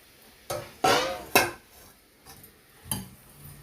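Vegetables for one-pot sambar rice are stirred in a pot, with a few clattering metal scrapes and knocks of a ladle against the vessel in an uneven rhythm, close and fairly loud with quiet gaps between, no talking.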